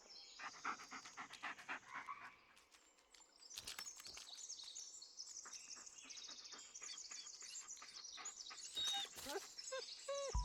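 A dog panting in the Blair Witch video game, rapid breathy huffs running steadily and close throughout, with faint bird chirps in the background.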